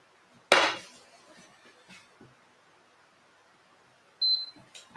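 Cooking pans handled and swapped on a stovetop: one sharp metallic clank up close, a few soft knocks, then another clattering bang near the end.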